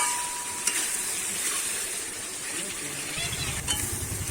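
Rohu fish curry masala with fried potatoes stir-fried in a pan, giving a steady broadband sizzle with scraping stir sounds, joined by a voice talking over it in the last second.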